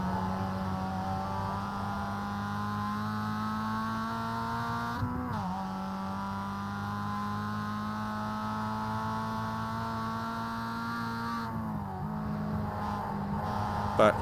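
Mazda MX5 race car engine in iRacing, a steady droning hum held at near-constant revs with two brief gear-shift dips, heard from inside the car at moderate level for the whole stretch.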